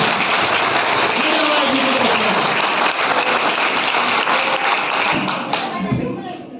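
Loud, sustained applause from a crowd at a school gathering, dense clapping filling the whole stretch before tapering slightly near the end, with some voices mixed in.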